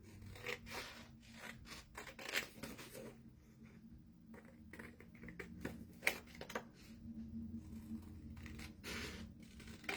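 Scissors snip out a small piece of paper for a friendship-themed craft, giving a series of faint, close crisp cuts and rustles spread through a quiet stretch with no talking.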